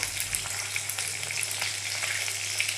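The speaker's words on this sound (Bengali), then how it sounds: "লাল লাল করে ভাজা হয়ে গেল" Loud, bright crackling sizzle of food frying in oil, steady and close throughout with no voices.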